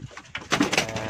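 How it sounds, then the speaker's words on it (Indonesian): Domestic pigeons coo softly in a short, throaty burst, close by and alone. "ini adalah indukan daripada burung dara"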